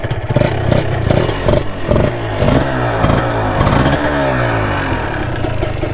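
A Yamaha TZR125 two-stroke motorcycle is kicked over with a few clattering thumps, then fires and revs, its buzzy engine note rising and settling loud and close, with no talking.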